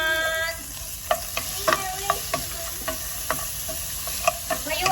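Garlic and onion frying in a pan for squid and shrimp adobo, a soft steady sizzle broken by a dozen sharp spatula taps and scrapes at an uneven pace, close but fairly quiet, no talking.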